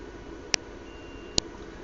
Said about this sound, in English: this is the buzzer